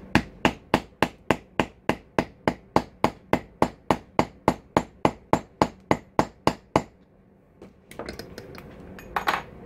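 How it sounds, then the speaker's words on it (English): A metal hammer strikes a snap setter to fix leather snaps on a belt: about twenty sharp, evenly spaced blows in a steady rhythm, loud and close, then a pause and a few softer handling clinks. "we're going to hammer and do this motion as it comes down, because we want this to set evenly"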